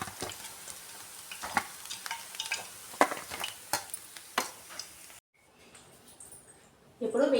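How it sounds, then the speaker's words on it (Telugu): Pieces of fish 65 frying in hot oil, a steady broadband sizzle with sharp stirring and pan clicks for about five seconds, then a quiet gap before the sizzle returns loud at the end. "ఇప్పుడు మిగతా పీసెస్ని కూడా వేసేసుకొని ఫ్రై చేసుకోవడమే."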